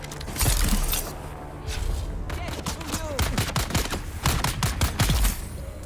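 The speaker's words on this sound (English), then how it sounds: "You're shooting at me when I'm trying to land." Gunfire in Dune: Awakening, sustained volleys of sharp, rapid shots with some ringing metallic impacts, loud and near, continuing in bursts across the clip with faint voices mixed in.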